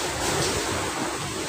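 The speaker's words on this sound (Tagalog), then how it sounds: "Ang lakas ng hangin." A strong typhoon wind, Typhoon Uwan, lashes a landing pad, making a steady, loud, broad roar with no breaks across the whole moment.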